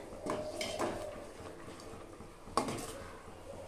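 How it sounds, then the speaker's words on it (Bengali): A spoon clinks and scrapes against a pot while melted date palm jaggery is stirred, producing a few bright metallic taps and soft scraping close by, with no talking. "এই চামচের সাহায্যে নেড়ে চেড়ে দেবো, ভালোভাবে গুড়টাকে গলিয়ে নিতে হবে"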